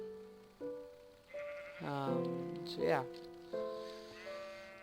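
Sheep in Minecraft bleat several times in a row, clear and close with wavering, drawn-out cries, while someone talks softly at one point.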